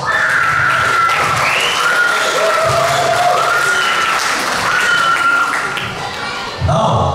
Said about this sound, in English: Please give them another big round of applause.